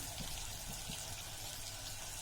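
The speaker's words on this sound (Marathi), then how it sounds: "आता यात टाकू आपण पाणी" Water pours steadily into a pot of stuffed brinjal curry in a continuous rushing stream, close and fairly loud.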